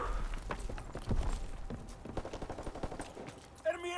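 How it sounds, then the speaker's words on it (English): Enemy aircraft gunner strafing in Call of Duty WWII, a steady stream of rapid machine gun bursts that stays dense and continuous, mid-distance and fairly quiet, ending in a short tonal whine. "Enemy aircraft gunner bearing down."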